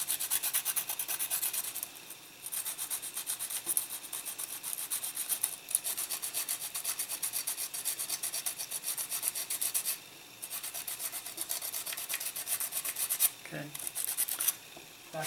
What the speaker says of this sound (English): we're going to take the harder sanding stick and just, it's pretty good. There's no step there. So it's just going to be a really light sanding.